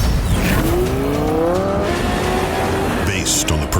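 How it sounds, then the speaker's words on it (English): A Lamborghini Huracán STO engine roars on a race track, a loud sustained rising howl climbing through the gears with a squeal of tires, continuous and close, ending with a brief gear change. "Based on the progressive roar of the engine."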